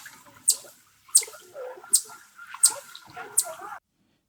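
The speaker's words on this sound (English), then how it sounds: "here I isolated the chirps that I wanted to use" Bird chirps isolated after noise reduction and normalizing, five sharp high chirps at a steady pace, each trailed by faint low residue, then silence; close and alone.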